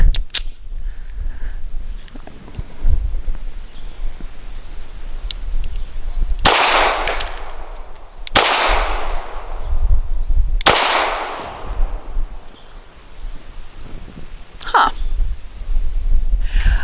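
A S&W Performance Center Shield EZ .380 pistol fires at a range, with three sharp, loud reports spaced a few seconds apart, each ringing out with a decaying tail amid quiet outdoor background.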